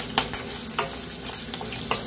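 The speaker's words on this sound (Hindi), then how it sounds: "उड़द दाल डालेंगे, करी पत्ता, अदरक लहसुन, मूंगफली और काली मिर्च भी डाल देंगे। इन सबको अच्छे से भूनेंगे" Urad dal, curry leaves, ginger, garlic, peanuts and black pepper roast in a pan with a close, even sizzle. A few quick spatula taps and stirring scrapes sound over about two seconds.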